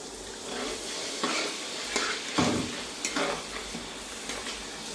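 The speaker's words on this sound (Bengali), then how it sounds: "এখন মশলাটা কষাবার জন্য দিয়ে দেব অল্প একটু জল" Ground cumin and coriander masala sizzling in a pan with a splash of water while desi chicken curry cooks, a soft constant hiss with a few scraping stirs, fairly quiet and close, no voices.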